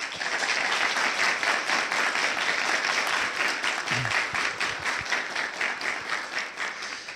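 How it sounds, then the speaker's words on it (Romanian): Audience applause fills a TV studio in Iași, welcoming guests from Cordăreni in Botoșani county: steady, dense clapping held at an even level for the full stretch, with no voices over it. "Le mulțumim pentru vizită și îi aplaudăm."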